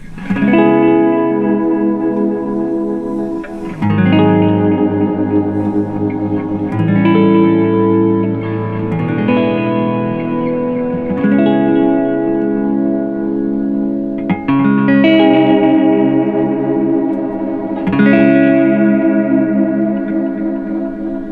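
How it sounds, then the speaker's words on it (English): Sustained electric guitar chords from a Squier Jazzmaster with delay and whammy wash together with long echoing repeats and pitch bends that swoop up and down, loud and dense with no talking. "let's see what the whammy sounds like, and let's get shoegazy. We'll use a delay"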